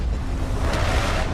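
Strong wind roars across an open landscape in the video game Starfield, a loud, steady rushing blast filling the whole moment with no voices.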